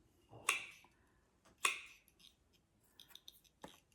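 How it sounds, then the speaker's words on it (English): Scissors snip a plant cutting, two crisp close snips followed by lighter clicks and handling noises in a quiet room. "So I'm going to snip out the top."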